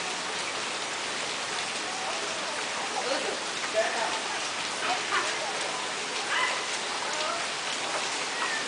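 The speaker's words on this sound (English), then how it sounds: "It's still raining relatively hard." Heavy rain pours down into puddles, a dense, loud, continuous hiss with faint splashing patter throughout and no voices.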